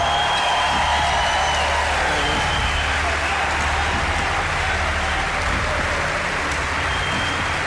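Studio audience in a Serbian televised singing competition duel breaks into sustained, loud applause and crowd noise, a dense steady roar of clapping and cheering holding evenly for several seconds with no speech over it.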